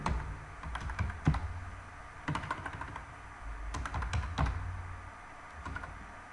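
Computer keyboard keys clatter in several short bursts of quick typing while Python code is entered, with brief pauses between the clusters of close, crisp keystrokes.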